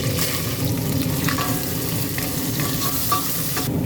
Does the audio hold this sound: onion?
yes